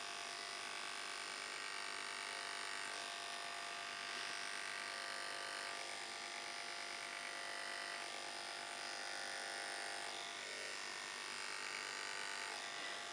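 Electric hair clippers fitted with a number 2 guard buzz steadily and close up while blending a faded wave brush cut, a continuous motor hum with slight shifts as the blade moves through the hair, no voices.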